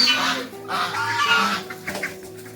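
Several chickens and ducks cluck and murmur close by in a busy, overlapping chorus, with short sharper calls standing out near the end.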